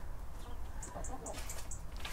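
Chickens cluck softly nearby in a piggery, a short run of repeated clucks over a low background rumble.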